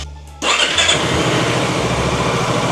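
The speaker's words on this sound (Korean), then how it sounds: "아 이제 시동 한번 살짝 걸어볼까?" A Honda ADV350 scooter with about 50,000 km on it starts up with a quick crank, then settles into a steady, close, rhythmic idle.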